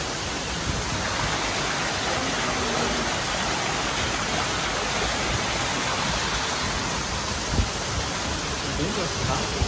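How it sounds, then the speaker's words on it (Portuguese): A waterfall inside the São Paulo aquarium pours as a steady, dense wash of rushing water that fills the whole stretch at an even level, with no clear speech. "Olha a cachoeira, Didi."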